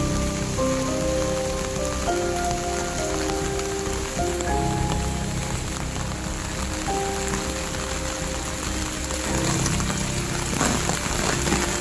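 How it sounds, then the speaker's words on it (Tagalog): Heavy rain drums steadily on surfaces around a vegetable and bonsai garden in strong wind, a dense, constant hiss with close spattering drops and no voices. "May ulan, kusog!"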